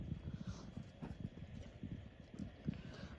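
Donkey moving about on a farm, a soft irregular clopping of hooves with a few heavier steps, faint and close-miked with no speech over it.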